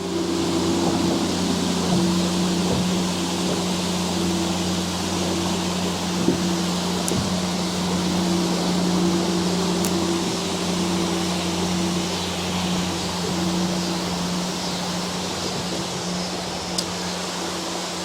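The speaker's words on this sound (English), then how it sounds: "this is just the discharge of that water that comes back down after they use it in their buildings" Discharged building water pours steadily back down across from Cooper Creek, a continuous broadband rush with a low hum that stays even and close throughout, with no voices.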